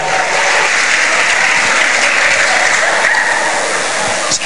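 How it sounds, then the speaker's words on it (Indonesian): Loud, dense audience applause at a TNI vs POLRI stand-up comedy show in Yogyakarta, welcoming comedian Ferry to the stage, a steady wash of many hands clapping for the whole span. "Langsung saja kita beri tepuk tangan yang meriah untuk Ferry"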